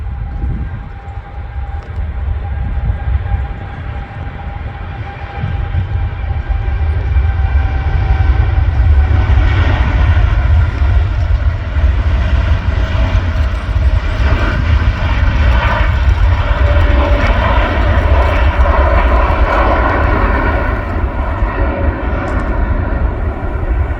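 An Etihad Airways Boeing Dreamliner takes off at Manchester Airport, a loud, sustained jet engine roar building and holding steadily throughout, heard from a nearby viewing area.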